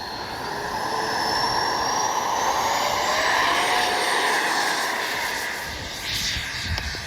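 An Arrows RC MiG-29 model jet takes off with a loud, continuous whine that rises and shifts in pitch, its roar swelling and holding close, with faint outdoor wind noise and no talk.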